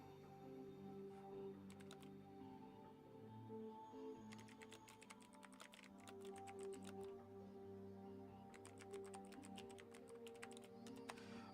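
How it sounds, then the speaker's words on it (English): Quiet bursts of rapid typing on a computer keyboard, clustered in two longer runs with pauses between, heard faintly over a steady background hum. "I'm just typing it all out"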